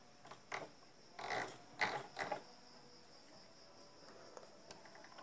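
Hand-operated winding machine turning while copper wire is wound onto a fishing transformer coil, quiet creaking and ratcheting clicks that come in short uneven bursts and then fade to near silence.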